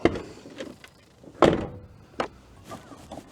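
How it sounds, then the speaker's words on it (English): A campervan door closing, with a few dull thuds and knocks spread over a few seconds, one heavier bump standing out, fairly close and without talk. "when you see the door close, you can actually see it bounce quite a bit"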